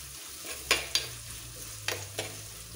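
Curry leaves from a home-grown plant frying in a pan for Kerala-style curd rasam, a faint continuous sizzle broken by a few sharp crackles and stirring scrapes, alone with no voices.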